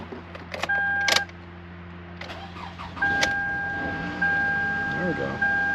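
A 2009 Toyota Camry engine cranks briefly and catches, then settles into a steady idle, heard up close with tonal warning chimes and a voice talking nearby.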